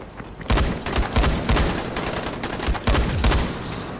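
Shotgun blasts in the zombie game Dying Light The Following, several loud booming shots in an irregular burst, close and alone with no talking.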